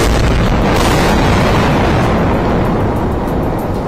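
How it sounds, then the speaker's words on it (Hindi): A heavy explosion in Gaza during the Israel–Hamas war roars with a dense, rumbling blast that stays loud and sustained before slowly easing, no voices present. "एक धमाका तो इतना जबरदस्त था कि कान के पर्दे फट जाएं"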